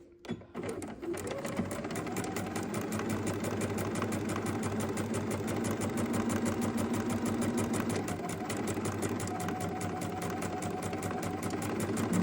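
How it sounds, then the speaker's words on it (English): A sewing machine stitches fabric for a hair bow and back-stitches, running in a steady, continuous mechanical whir with a rapid needle rhythm throughout, close and fairly loud. "Let's just back stitch here."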